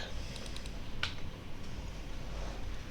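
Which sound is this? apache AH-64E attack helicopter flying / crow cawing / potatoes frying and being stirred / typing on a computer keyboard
typing on a computer keyboard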